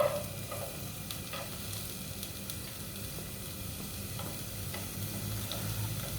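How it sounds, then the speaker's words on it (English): Onions frying in olive oil in a pan, a steady soft sizzle with faint occasional clicks from stirring, even and continuous, with no talking. "we just wanna fry them or like cook them a little bit because to soften them up"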